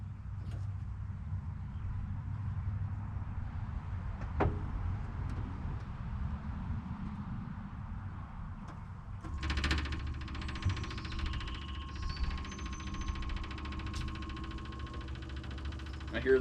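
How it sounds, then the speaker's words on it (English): An electric fuel pump runs in a car as the key is switched on, a faint steady hum over low rumble that swells into a louder whirring buzz partway through. "I hear the electric fuel pump."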